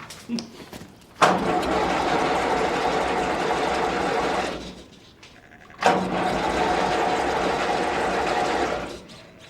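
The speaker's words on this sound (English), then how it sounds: "Let's get this tractor started and get the job done." A tractor engine cranks and sputters in two long, rough bursts with a brief lull between, loud and steady, no voices.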